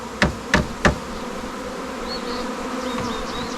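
Honeybees buzz in a dense, steady drone as a new colony is shaken from a package into a nesting box on a mountain farm, opening with three sharp knocks about a third of a second apart before the swarm's hum carries on alone.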